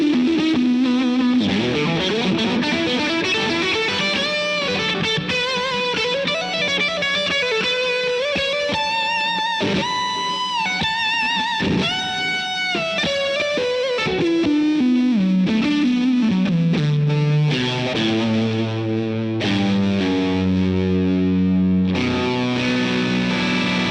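An electric guitar played through a Crazy Tube Circuits Venus distortion pedal with a touch of delay rings out in sustained distorted chords and melodic lines, loud and continuous with trailing echoes and no talking.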